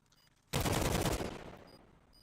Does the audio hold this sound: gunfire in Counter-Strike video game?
yes